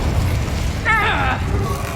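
Casting the Confringo explosive spell in Hogwarts Legacy sets off a loud, rumbling blast with a short ringing, warbling magical tone over the top.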